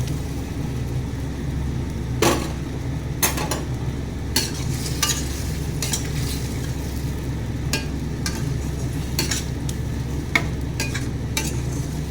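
Marinated chicken for chicken rezala sizzles in a pan, a steady low frying hiss broken by occasional scraping and clinking strokes of a spoon at irregular intervals, close and moderately loud, with no voices.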